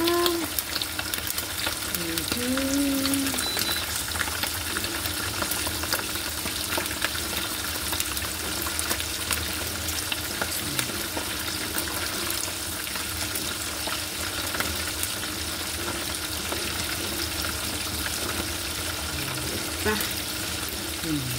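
Steady crackling sizzle of fish frying in hot oil, continuous and close, with faint background voices and occasional clinks.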